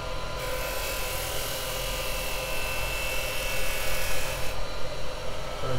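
A wood lathe turns a tea-light holder while a tool cuts it, giving a continuous close, loud rasping and whirring with a steady hiss of shavings and slight swells in intensity.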